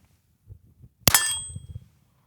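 Single suppressed 9mm shot with 115-grain ammunition through a WhisperStrike Slim 9 suppressor, a sharp, bright crack with a brief metallic ring, set among low rumbling handling and background noise.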